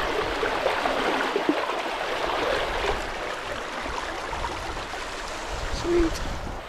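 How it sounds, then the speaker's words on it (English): Steady rushing of a Scottish wilderness stream along the Skye Trail as a water bottle is filled, a continuous broadband wash of flowing water with a brief gurgle near the end and no talking. "So I've just filled my bottle."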